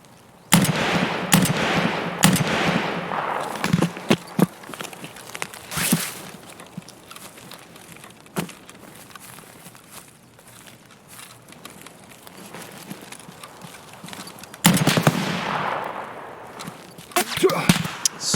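Gunshots in the video game Escape from Tarkov: scattered single shots and short bursts, some sharp and close, others distant, separated by quiet stretches with light movement sounds.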